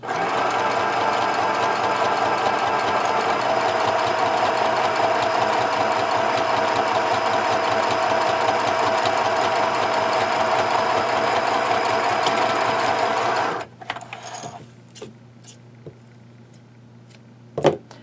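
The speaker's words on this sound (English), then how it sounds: "running that seam along the outside edge of the presser foot" A sewing machine runs a steady, close, even whir while stitching a seam along the outside edge of the presser foot, then stops after about thirteen seconds, leaving a few faint clicks and quiet handling sounds.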